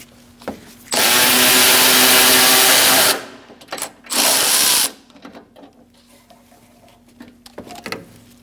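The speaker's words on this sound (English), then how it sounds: "I'm going to take out these two bolts." A power tool with a 10mm socket spins bolts out on a 2002-2006 Toyota Camry 2.4 during AC condenser replacement: a two-second whirring run, a short pause, then a second shorter burst, followed by quiet handling clatter.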